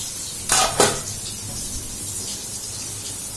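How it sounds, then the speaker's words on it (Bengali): Egg curry colored with Kashmiri chili is stir-cooked in a pan, two quick spatula scrapes standing out over a low, quiet sizzle. "আমার এখন ডিম্ব কষা চলছে"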